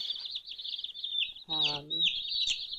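Mail-order chicks, Cornish cross and barred rock, cheep in a continuous high-pitched chorus nearby, with a brief lower voice cutting in partway through.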